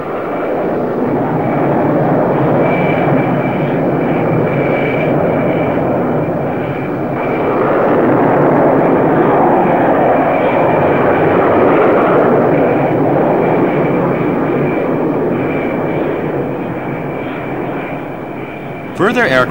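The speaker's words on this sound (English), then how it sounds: "The launch sequence continues with up to four aircraft dispatched almost simultaneously." F-4 Phantom II jets launch from an aircraft carrier catapult, a loud, sustained roar of jet engines at close range that swells and holds for the full stretch, with a steady high whine on top.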